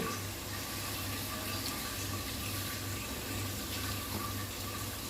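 Water poured into ground cashew and melon-seed paste while cooking paneer in a kitchen, a steady soft trickling and hiss over a low hum, with no talk.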